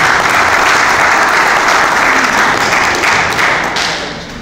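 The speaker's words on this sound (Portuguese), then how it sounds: "Eu peço uma salva de palmas para a apresentação." An audience at a thesis presentation claps in a dense, sustained burst of applause that fills the room, then gradually fades toward the end.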